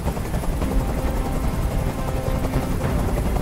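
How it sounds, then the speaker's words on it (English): A video game helicopter hovering nearby, its rotor producing a steady, loud, throbbing drone throughout with no pauses. "I can't stand that noise anymore. Tell that helicopter to get out of here."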